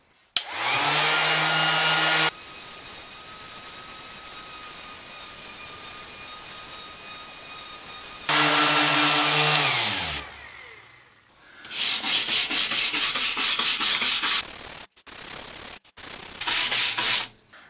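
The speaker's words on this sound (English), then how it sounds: "I'm just going to use my orbital sander, just go over a little area in the middle here" An orbital sander buzzes against beech-look wooden furniture in several close, loud runs, starting and stopping, with brief pauses and rattling between passes.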